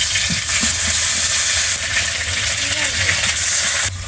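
Ginger paste hits a hot pan and sizzles loudly and steadily, a bright continuous hiss with small pops and crackles that cut off abruptly near the end, close up with no talking.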